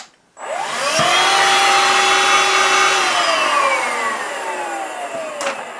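Vax Air cordless handheld vacuum cleaner switching on with a rising whine, holding a loud, steady close-up drone, then dropping slightly in pitch as the load changes.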